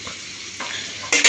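Potatoes for aloo dum sizzle in a hot pan, the frying hiss swelling suddenly louder toward the end amid faint stirring, heard briefly with no talk.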